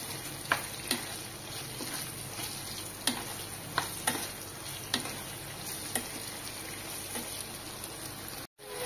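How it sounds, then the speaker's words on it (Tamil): Eggplant sautéing in oil in a pan for ennai kathirikai kuzhambu, a soft continuous sizzle with scattered spoon taps and stirring scrapes, moderately close, no talking. "எண்ணெயிலே நல்லா வதக்கிக்கோங்க"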